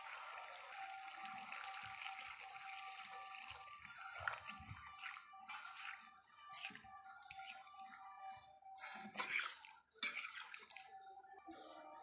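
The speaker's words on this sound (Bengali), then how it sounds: "এবার পরিমাণ মতো জল দিয়ে দেবো।" Water poured into a cooking pot of simmering meat, a soft, continuous splashing and trickling with a few brief surges, quiet and close with no talk.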